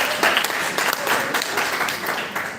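Students applaud at a guest lecture on computer vision at CPJ College, a steady round of dense clapping filling the room for a few seconds, with a faint voice or two under it.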